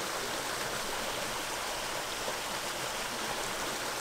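Water rushes steadily down into rocks in a gorge, a continuous broadband hiss and roar of flowing stream water, even and close, with no voices over it.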